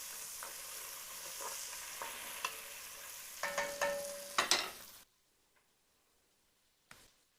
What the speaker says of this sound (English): Now we can hear the ASMR sizzle of the onions.